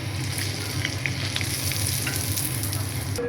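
Pitha rice cakes frying in hot oil give a steady, close sizzle with crackling bursts, heard alone with no talk.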